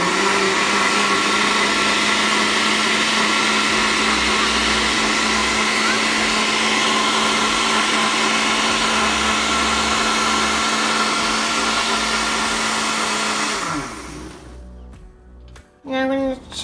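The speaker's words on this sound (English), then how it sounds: "put the lid on the blender here, and then we are going to be turning it on to smoothie" A loud, steady blender whirs continuously for a long stretch blending a berry smoothie, then winds down and stops, leaving a few brief clunks.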